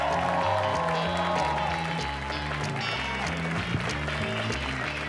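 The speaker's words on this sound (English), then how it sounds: "Please give a round of applause for Nick Griffin." A comedy club crowd claps steadily for a comedian walking on stage, with the applause mixed under upbeat walk-on music throughout.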